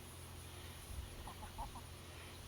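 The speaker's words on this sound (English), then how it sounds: "These hens are chasing these young chickens around" Hens cluck in a few short, faint bursts while chasing young chickens around, heard distantly over a low, steady background hum.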